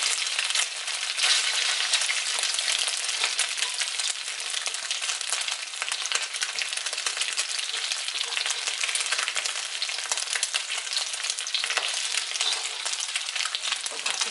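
Marinated pork for suki haeng fries in a hot pan, producing a dense, continuous, loud sizzle that holds steady from start to finish, with no talking over it.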